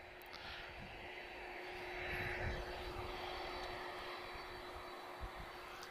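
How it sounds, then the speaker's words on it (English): Distant roar of a Boeing 767-200's GE CF6 engines at Lisbon Airport, a steady broad rumble that swells slightly mid-way under a faint constant hum. "you might also notice the sound of a CF6 from a 767-200 in the distance"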